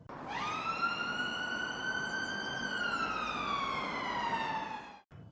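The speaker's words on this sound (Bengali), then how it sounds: "ঘর থেকে শোনা গেল অ্যাম্বুলেন্সের সাইরেনের শব্দ আস্তে আস্তে দূরে মিলিয়ে যাচ্ছে" An ambulance siren wails in a long rising and falling tone, loud and steady at first, then dropping in pitch and dying away abruptly near the end, with no speech.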